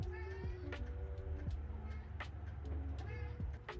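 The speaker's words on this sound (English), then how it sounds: "my cat is screaming" A house cat gives loud, drawn-out meows, several rising and falling calls repeated over a few seconds, close by against a steady low background hum.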